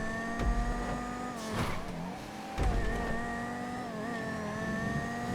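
Banshee race car in GTA V, an understeering car with good acceleration but quite heavy, during a touring car championship race; its engine drones steadily with pitch shifting as it revs and changes gear, with brief louder bursts, close and continuous.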